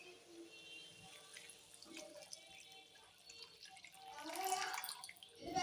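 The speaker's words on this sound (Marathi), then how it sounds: "तर आता आपण याच्यामध्ये टाकणार आहे 1 गडवा पाणी" A pot of water poured into a cooking vessel of vegetables, a steady splashing gush that swells loudest near the end, with faint background murmur.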